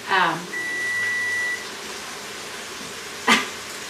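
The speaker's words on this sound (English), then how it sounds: "My timer is buzzing for what I have in the oven" An oven timer sounds a single sustained electronic tone for about a second, steady and moderately loud, between brief bursts of a voice talking.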